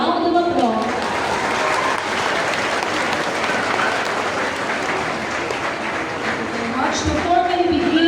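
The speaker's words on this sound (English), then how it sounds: "Please give them a round of applause." Sustained audience applause fills a recognition ceremony, loud and dense throughout, with voices and some tonal sounds mixed in beneath the clapping.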